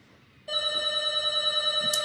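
A telephone or intercom bell starts ringing abruptly after a quiet moment and holds a steady, bright, close electronic tone that continues through to the end.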